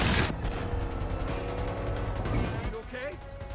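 Gunfire in Far Cry 5 opens with a loud close shot, followed by a continuous rattle of shooting and combat noise in the background, with someone talking over it.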